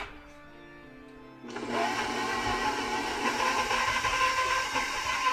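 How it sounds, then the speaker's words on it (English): After a faint hum, a stand mixer with paddle attachment starts up at about 1.5 seconds, creaming room-temperature butter with a loud, steady whirring drone that continues to the end, with no talk. "in our mixer. I'm using the paddle attachment today."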